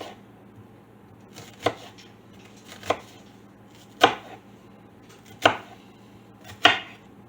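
Five sharp, evenly spaced knife chops through an onion, each cut landing on the board about every 1.2 seconds, close and clear against a quiet kitchen with no talking.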